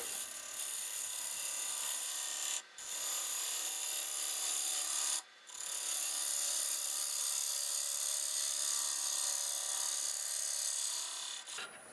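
Shear scraping wood on a lathe: a steady, hissy, rasping scrape with a constant whine behind it, continuous and fairly close, broken by two brief pauses.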